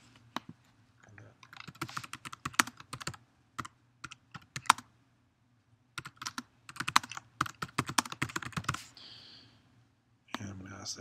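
Clicky computer-keyboard typing in short bursts with pauses, close and moderately loud, done while pasting a link, over a faint steady hum and a few soft mouse clicks.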